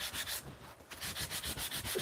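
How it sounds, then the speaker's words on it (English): Hand sanding on a copper piece, a rhythmic back-and-forth rasp of abrasive strokes repeating roughly every quarter second, close and alone without talk. "I am sanding it this way because it creates a dome on the copper,"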